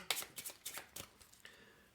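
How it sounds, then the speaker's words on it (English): Board game cards for Potions of Azerland being shuffled on a table, a quick run of crisp riffling bursts over about two seconds, close and moderately quiet, with no voices. "You'll shuffle them all together."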